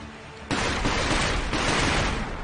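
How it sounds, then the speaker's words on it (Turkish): Firecrackers exploding in the game Sekiro: Shadows Die Twice, a sudden loud burst that breaks into a dense, crackling run of pops lasting about two seconds without talk. "Burada maytaplar varmış. Onlar patlamış."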